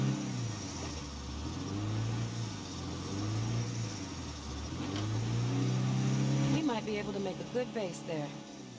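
A car engine in State of Decay 2 revs and drones in rising and falling surges, loud and steady throughout, with a voice talking over it.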